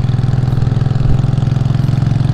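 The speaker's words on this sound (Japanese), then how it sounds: "やっぱりなんか思わずアクセル開けたくなるようなバリバリ音はかっこいいですね。" A Yamaha Drag Star custom motorcycle engine rumbles steadily with a loud, crackling low-pitched beat throughout, close and continuous with no voices.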